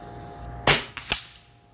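A .25 Avenger air rifle fires an H&N slug in one sharp, loud crack, followed shortly by a fainter second report and a brief decay, with no voices.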